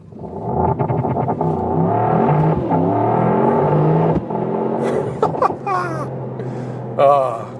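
A Mercedes-AMG GT 63 accelerates hard in a launch-control race start. A loud, close engine roar climbs steadily in pitch through the gears, then eases, and excited voices and laughter break in near the end.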